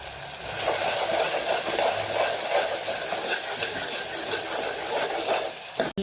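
Tomato masala sautéing in oil, with steady sizzling hiss that continues without break, loud and close, then cuts off abruptly at the end.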